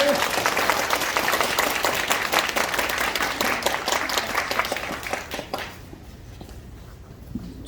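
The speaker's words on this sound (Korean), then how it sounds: "큰 박수 부탁드립니다" Audience applause at a National Assembly candidacy declaration event in Sejong, a crowd clapping steadily for about five seconds before fading to a quiet room with faint murmurs.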